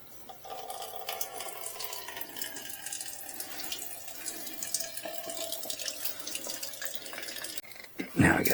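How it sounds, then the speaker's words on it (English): Fuel and liquid run steadily from the drain of the carburetor on an RPS Condor 150cc motorcycle, a continuous close splashing trickle like a tap running, ending with a louder burst of handling noise. "this is how you drain it if you think you have dirt or water in your carb"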